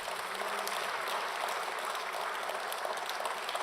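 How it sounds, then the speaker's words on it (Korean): A church congregation applauding during a 30th-anniversary service: a dense, steady wash of clapping from many hands, held at an even level throughout with no pauses and no talking. "다시 크게 박수."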